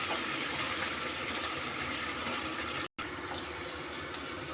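Green chillies fry in hot oil, giving a continuous hissing sizzle broken by one brief dropout, steady and fairly close with no talking.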